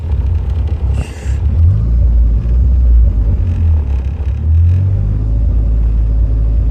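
A GLHS car's engine idles while warming up, a loud, steady low rumble with slight wavering in pitch and no other sounds over it.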